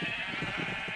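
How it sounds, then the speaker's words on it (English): Sheep bleat repeatedly in a steady series of close, wavering calls over a constant hiss, with no talk. "Move, sheep. Move."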